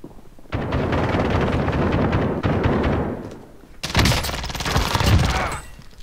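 Sustained automatic gunfire in the Warzone video game roars loud and close, cuts off for a moment, then a second dense volley starts and fades out near the end.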